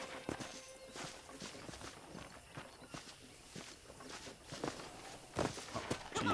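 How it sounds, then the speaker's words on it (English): Horse hooves clopping steadily while riding in Red Dead Redemption, a continuous patter of footfalls mixed with game ambience, with a heavier burst of hoofbeats near the end. "let's see if you can still ride a horse"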